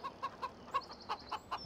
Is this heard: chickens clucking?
yes